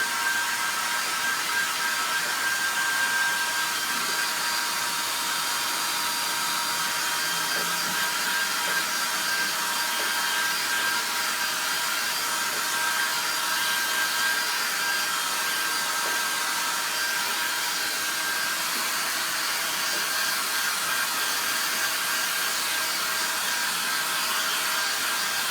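A hair dryer blows steadily to dry a freshly painted decoupage craft piece, giving a continuous even whine and rushing airflow with a faint tone, held close and unchanging with no talking.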